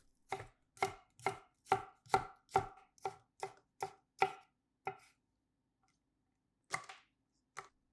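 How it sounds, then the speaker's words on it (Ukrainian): Peeled garlic sliced thinly with a knife on a board for pineapple kimchi: about ten crisp, evenly spaced chopping taps in a steady rhythm, then a pause and two more isolated cuts, close and clear with no talk. "Очистіть і наріжте тонкими скибочками чесник"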